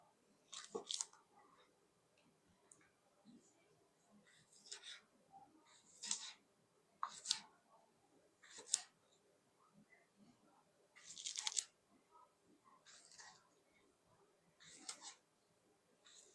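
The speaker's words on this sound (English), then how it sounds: "All right, let's finish cutting this." A knife cuts through ring bologna on a board in a kitchen, giving a series of faint, irregular crunchy slicing strokes spaced a second or two apart, close by and quiet, with no talking.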